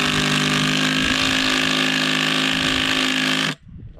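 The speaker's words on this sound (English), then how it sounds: "Now with the extension, we just countersink this straight through into it." A power drill with an extension bit runs hard and steadily, countersinking straight through a timber fence post for a box strainer, whining loudly for about three and a half seconds before cutting off abruptly.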